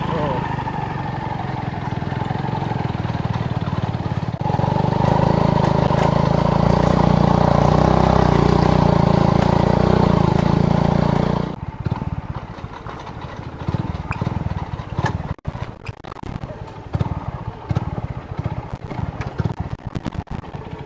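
A motorcycle engine rumbles loudly nearby on a narrow village road, building to a steady drone that cuts off about halfway through, leaving scattered clatter and background noise.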